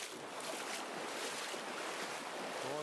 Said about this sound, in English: You can hear the river Kia.